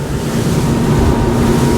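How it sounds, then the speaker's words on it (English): A SACS Strider 11 boat runs offshore through waves, with a steady, loud rush of water and wind noise across the microphone filling the whole short stretch. "as I feel the boat through these waves"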